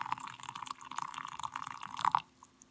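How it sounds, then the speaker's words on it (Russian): Water pours into a mug for an army ration borscht, a continuous close trickling stream that swells louder near the end before stopping abruptly. "И наливаю воду."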